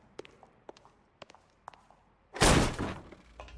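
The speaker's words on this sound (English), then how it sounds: "Don't bother knocking, just kick the door in." In the video game L.A. Noire, scattered footsteps and small knocks lead up to a door being kicked in, a loud, close crashing burst that splinters open and rings out for about half a second before fading.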